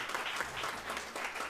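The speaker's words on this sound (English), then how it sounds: "Thank you very much for the round of applause again." A round of applause for teen health educators at an awards ceremony, a quiet, steady patter of many hands heard from a distance for a moment.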